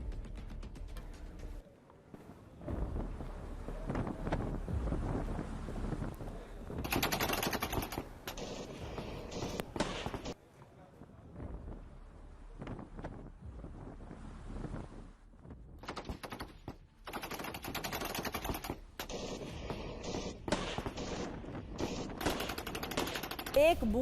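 Gunfire from released army footage of a close-range firefight with Baloch rebels: rapid bursts of automatic fire come in several stretches separated by brief quieter gaps, with voices speaking through parts of it.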